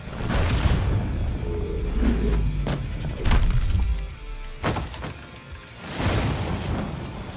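Heavy booming thuds and crashes from a Tombstone Piledriver slam in the WWE Immortals fighting game, several loud impacts spread across a few seconds with game effects ringing between them.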